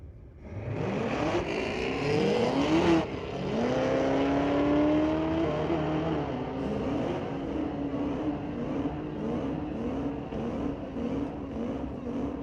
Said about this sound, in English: Here's that quick Cadillac once again, racing against a very fast Camaro.